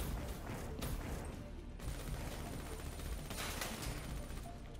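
Rapid gunfire rattles through a Black Ops 3 campaign battle, dense overlapping bursts over a loud continuous din of combat, with no speech.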